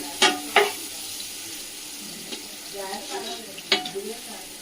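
Onion pieces fry in a pan with a pinch of turmeric, a low steady sizzle punctuated by a few sharp utensil knocks against the pan, while a faint voice murmurs briefly in the background.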